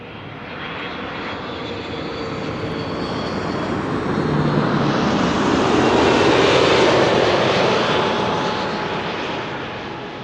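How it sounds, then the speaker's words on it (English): A KLM passenger jet arriving at Amsterdam Schiphol from Montreal, a broad engine roar that swells steadily to a loud pass near the middle and then eases away, with no talking. "KLM flight 672, arriving from Montreal."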